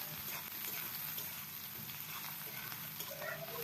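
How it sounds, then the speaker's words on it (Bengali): Pumpkin bori fry in oil with onion and green chilli while being stirred, making a low, steady sizzle with soft scraping. The sound is faint and continuous. "আর এগুলোকে আমি তেলের মধ্যে সুন্দর করে হালকা বাদামি কালার হয়ে আসা পর্যন্ত নেড়ে ছেড়ে ভাজতে ভাজতে থাকবো"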